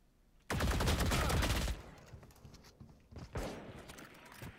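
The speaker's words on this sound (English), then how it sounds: "They're still shooting down A." Rapid automatic gunfire in the Valorant video game, a loud continuous burst of shots that cuts off, followed by quieter shuffling and a few more shots and footstep-like thuds.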